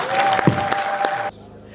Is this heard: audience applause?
yes